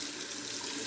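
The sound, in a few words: water running into a shaving mug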